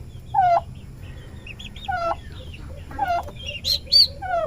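Turkey hen with six newly hatched chicks, giving a few mid-range clucks and calls spaced a second or so apart, with higher chirps near the end over a quiet background.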